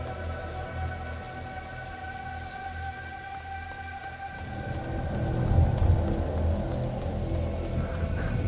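Stormy weather in A Plague Tale: Innocence, with steady heavy rain and a deep rolling thunder rumble that swells about halfway through and stays loud.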